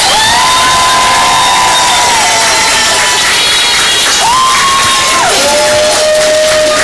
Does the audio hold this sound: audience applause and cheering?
yes